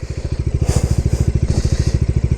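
Bajaj Dominar 250 motorcycle exhaust idling nearby, a loud, steady low-pitched thumping pulse with rhythmic beats and light hiss above, no talk over it.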